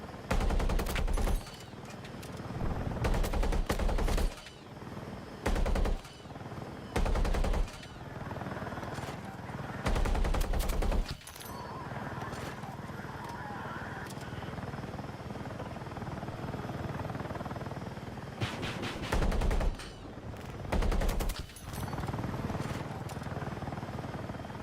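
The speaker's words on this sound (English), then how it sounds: "Oh, there's another attack heli there as well." Attack helicopter rotor drone from Battlefield 6 gameplay runs steadily throughout, cut by repeated loud bursts of automatic gunfire and explosions in several clusters, with no talk.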